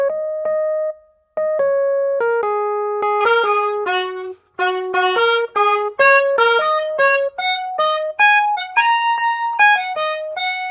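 Logic Pro plays back a MIDI melody on its default electric piano sound, a run of about twenty clear, steady keyboard notes, some held and some short, loud and alone with no voices.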